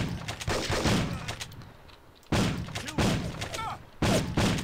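Enemy gunfire from a pistol, a shotgun and a Tommy gun in the video game Mob Enforcer, heard as loud, dense bursts of shots in three separate volleys with short pauses between them.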